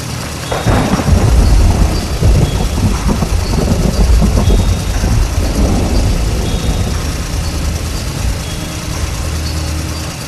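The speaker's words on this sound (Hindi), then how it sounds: "बुल्ली ने अपनी गाड़ी मोड़ी और सीधे गेम स्टोर की तरफ निकल गया।" A car engine rumbles loud and close, rising as the vehicle pulls away and then settling into a steady low drone that slowly fades.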